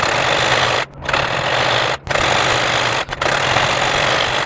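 A sewing machine stitching around the corner of fabric for a Sikh kachhera runs in steady, loud mechanical bursts, with three short pauses where the stitching stops before it resumes.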